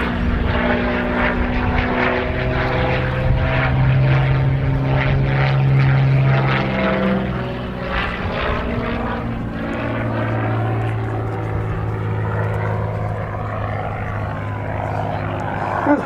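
A Curtiss P-40C Warhawk (Tomahawk IIB) flies at Duxford, its piston engine and propeller giving a sustained droning roar that swells and then slowly fades as it passes.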